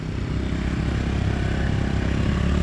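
An automatic motorcycle during a licence test in Vietnam, its engine running at one steady throttle with the speed held on the rear brake, a constant close mid-pitched drone with no rise or fall, no talk.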